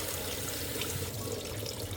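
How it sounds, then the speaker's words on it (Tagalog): Cold water runs steadily from a kitchen tap over cooked pasta being rinsed, a constant broad splashing hiss that stays at an even level throughout with no voices. "Tapos binanlawan ko rin ng malamig pang tubig para talagang hindi magdikit-dikit sila sa isa't isa."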